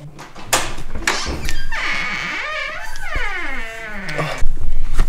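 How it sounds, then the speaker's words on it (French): A door is opened with a few dull thumps and then a long, wavering creak that rises and falls. A heavier knock follows near the end, and the sound is close and fairly loud. "Oh, ouvre la porte."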